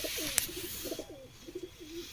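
Pigeon cooing softly in a series of short, throaty low calls, faint and close, with a sharp click near the start and quiet background hiss.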